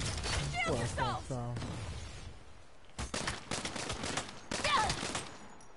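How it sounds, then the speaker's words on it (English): Saints Row video game gunfire: bursts of rapid shots and crashing impacts come in clusters, loud against game character voices shouting over the action. "Oh, they shooting."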